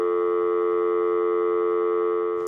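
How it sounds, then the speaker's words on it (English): A telephone dial tone drones steadily and loudly with no break, then cuts off with a small click at the very end. "You can listen to the dial tone"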